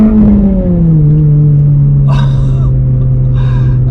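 A front-wheel-drive car's engine drones loudly from inside the cabin, its pitch sliding down then holding steady as it revs through a downshift, with a couple of short breathy sounds over the top.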